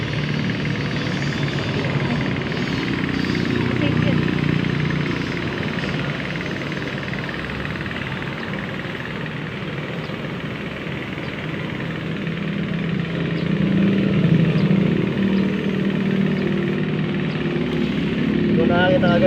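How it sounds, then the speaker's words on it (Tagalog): Two engines idle together in a continuous low drone that swells slightly midway, with a voice talking over the running motors. "Dalawang makina yung pinapandar ko rin."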